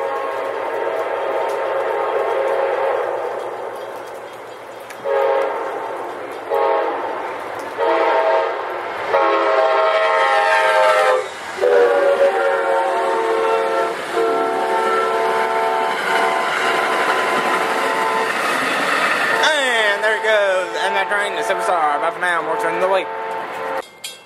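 Real train passing a trackside railfan spot after rain, a steady loud roar of rolling cars with repeated horn blasts throughout, and someone speaking briefly over it.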